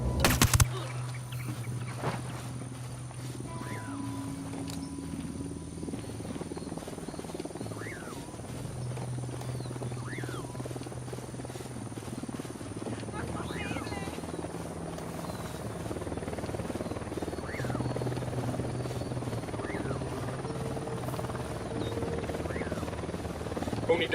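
Helicopter flying in Ghost Recon: Wildlands, a steady rotor thrum and engine hum sustained throughout at moderate distance, with faint chirps scattered in the background.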